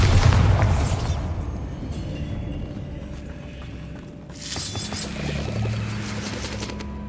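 Bombarda spell explosion in Hogwarts Legacy, a deep boom at the start that rolls off over a few seconds, then a second swell of blast and debris rumble.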